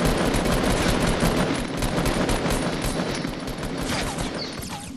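Video game gunfire from a shooter match, a dense, steady machine-gun barrage of loud rapid shots filling the whole stretch without a break.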